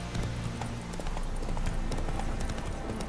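Geralt's horse gallops in The Witcher 3, a loud, dense clip-clop of hooves driving continuously and close up, with no talk over it.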